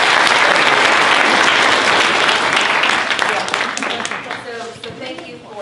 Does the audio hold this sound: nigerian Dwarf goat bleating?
no